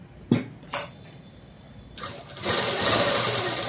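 Sewing machine stitching a folded lehenga frock hem gives two short clicks, then a rising, whirring run that grows louder and continues steadily to the end.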